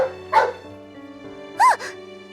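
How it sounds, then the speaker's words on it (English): Small dog in a visual novel game gives two short, close yips or barks spaced about a second apart, bright and clear over a quiet background of soft game music. "I look down and see a dog darting around Sara's feet."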